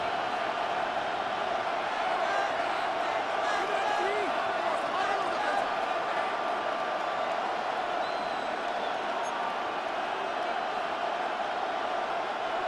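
A stadium crowd in an American football video game keeps up a steady, even roar of broad crowd noise at moderate distance, with no distinct cheers or peaks, holding flat throughout.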